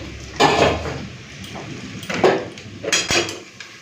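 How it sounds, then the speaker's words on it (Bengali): A metal lid comes off a cooking pot of fried kochu loti with fish in a home kitchen, giving a few close clanks and scrapes spread over several seconds. "এখন আমি ঢাকাটা খুলে নিচ্ছি"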